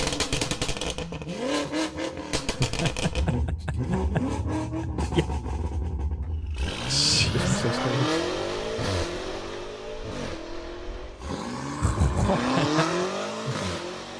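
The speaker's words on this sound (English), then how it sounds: "The turbo sound up front." A powerful 850-horsepower turbocharged sports car engine revs repeatedly, pitch sweeping up and down in loud bursts with whooshing turbo noise, close by, no voices.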